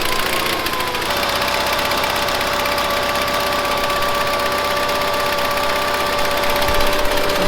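The engine of a 1970s Bolens QT16 garden tractor, running on old fuel with a carburetor needing cleaning, runs loud and close with a steady mechanical drone and slight knocking, its pitch dropping a little after the first second.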